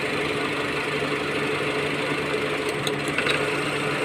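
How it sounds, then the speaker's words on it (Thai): A Honda engine idles roughly with one ignition coil pulled, giving a steady, close mechanical drone with an uneven, shaky rhythm and a few faint clicks near the end. "ดึงออกแล้วมีอาการ เครื่องยนต์สั่น"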